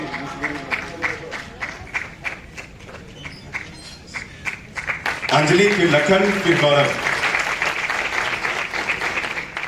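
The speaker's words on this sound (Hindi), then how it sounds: "जोरदार तालियां ऐसी प्रतिभा के लिए" Audience applause at a community hall ceremony honouring top-scoring students with certificates, heard as rhythmic clapping through the first half. Someone speaks over a microphone, and later louder voices and music-like tones take over.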